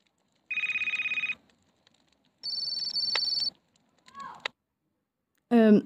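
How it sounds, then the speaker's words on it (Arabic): A mobile phone rings in bursts of electronic tones in a quiet room, with a few separate ring patterns, pauses between them and a short chirping alert at the end. "ما ترد يا ابني على الموبايل اللي بقاله ساعة واحنا واقفين اصلا هنا وكل عمال يرن"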